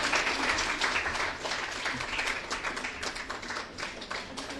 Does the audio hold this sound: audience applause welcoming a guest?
yes